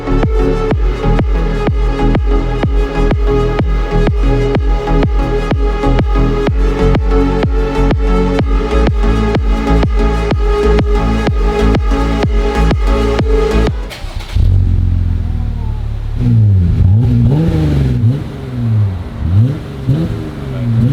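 A Jeep Gladiator with a muffler delete idles with a deep, rapid, throbbing rhythm, then the engine revs several times in loud rising and falling blasts.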